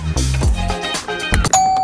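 A person's voice imitates a two-tone doorbell ding-dong outside a family farmhouse, standing in for a doorbell that does not work, with some clinks and a sustained tone near the end.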